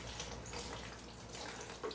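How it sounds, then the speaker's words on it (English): Plain water runs steadily over disassembled AR-15 rifle parts, a soft continuous tap-like rush with splashing, fairly quiet and without talk. "I'm just going to follow now with the regular water."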